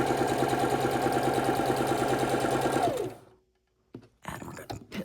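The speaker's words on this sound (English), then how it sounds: "and we're going to sew across" A sewing machine runs at a steady, rapid mechanical whir while stitching across quilt fabric for a king size quilt, then stops abruptly, followed by brief soft rustles and knocks of handling.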